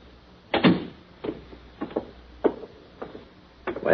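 Door sound effect in an old radio drama: a series of sharp wooden knocks and clicks spaced irregularly across a few seconds, moderately loud and close, with no voices over them.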